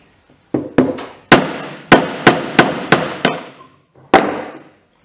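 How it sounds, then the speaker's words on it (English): A bearing is driven out with a 13mm socket: about nine sharp metallic hammer blows, close and loud, in an uneven rhythm with short ringing decays and a pause before the last strike. "Now I've got a 13mm socket and I'll see if I can drive the bearing out."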